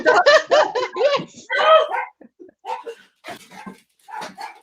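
A dog barks several times in quick, loud bursts close by, then softer yelps and whines follow with short pauses between them.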